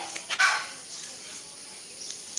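A dog gives a short sharp bark, with a couple of fainter yips around it, off-mic during an indoor live stream with quiet room tone.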